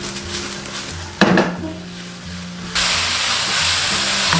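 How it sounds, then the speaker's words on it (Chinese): Shredded potatoes stir-fried in a wok over high heat, with a steady sizzle, metallic clanks of a spatula against the pan and scraping tosses, close and loud. "开大火炒至断生"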